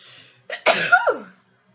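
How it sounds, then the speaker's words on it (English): A single sneeze, close and fairly loud, with a sharp intake and burst lasting under a second, alone with no talk around it. "I'm gonna sneeze."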